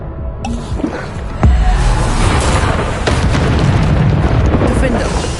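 Bombarda spell blast in Hogwarts Legacy on PS5, a loud booming explosion with a sharp onset that lingers over dense combat noise and rumble.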